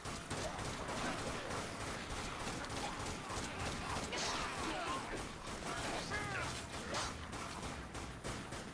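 Rocket launcher fire and explosions in the zombie shooter Dead Nation, a dense, continuous barrage of blasts, crashes and gunfire filling the whole stretch at steady loudness.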